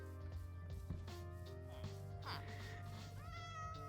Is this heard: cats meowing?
yes